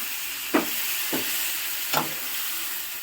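Chicken gizzard and liver cooking in oil with pepper powder, coriander powder and chicken masala, giving a soft continuous sizzle broken by three brief stirring scrapes, with no talk.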